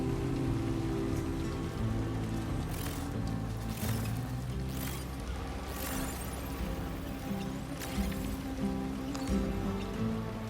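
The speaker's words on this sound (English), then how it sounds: "Maybe this mission is just completely ridden with timefall anyway." Timefall rain pours in Death Stranding 2, a steady close patter of drops on surfaces beneath a low humming game backdrop, with occasional louder splashy bursts.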